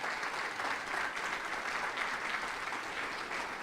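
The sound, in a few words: congregation applause in church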